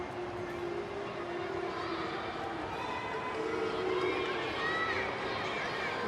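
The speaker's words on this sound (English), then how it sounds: "Crowd builds, so does their volume" A stadium crowd at a women's football match between Western Sydney Wanderers and Canberra United keeps up a steady roar that swells slightly, under a commentator's voice.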